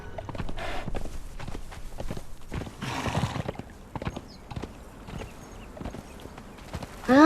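A horse in a video game: hooves clip-clop and shuffle in uneven steps, with snorts and rustling, ending with a sharp, rising whinny right at the close.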